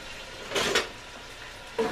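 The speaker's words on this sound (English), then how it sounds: "And you hear that starting to sizzle." Onion sizzles steadily in butter in a hot pan, with a couple of louder bursts of crackling as pieces are stirred.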